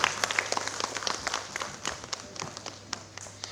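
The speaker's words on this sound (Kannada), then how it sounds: "ನಿಮ್ಮೆಲ್ಲರ ಪ್ರೀತಿಯ ಚಪ್ಪಾಳೆಯೊಂದಿಗೆ ಸುಸ್ವಾಗತ" An audience at a Karnataka Media Club annual awards ceremony claps to welcome a guest onto the stage, a faint, scattered patter of hands that fades in and out without a strong swell.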